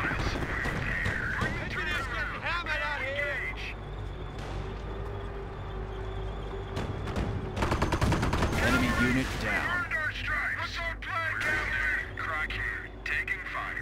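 Gunfire from infantry in the Company of Heroes harbour battle, scattered rifle and machine-gun bursts with a thick cluster of shots midway, heard under a voice talking and other battle noise.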